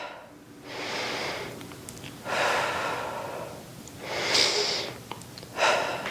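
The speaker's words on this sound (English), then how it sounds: "Breathing in through the nose," Four breaths during a Pilates reformer exercise, drawn in through the nose and let out through the mouth, close and audible, alternating in an even rhythm with brief pauses between.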